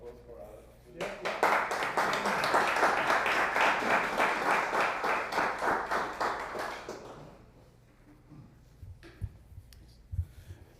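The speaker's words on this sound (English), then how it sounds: "Okay, so a little round of applause for Alex." Audience at a Bitcoin conference in Montreal gives a short round of applause for a speaker, a dense burst of clapping that swells, holds for several seconds, then fades into scattered claps and quiet room noise.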